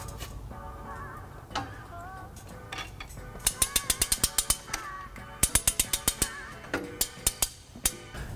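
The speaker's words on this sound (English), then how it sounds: "today I'm going to be using U-Haul's exclusive hitch jack" U-Haul hitch jack being ratcheted to lift a trailer hitch for a 2017 Kia Niro, a close run of sharp repeated metallic clicks in quick bursts with short pauses between strokes.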